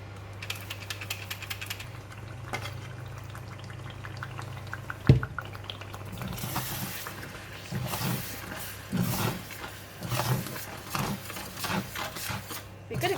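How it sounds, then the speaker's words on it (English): Curry paste for chicken rendang frying in oil in a pan, a steady close sizzle and bubbling with scattered clicks and scraping, a sharp knock midway, then louder bursts of crackling as it cooks. "we're going to fry the curry paste"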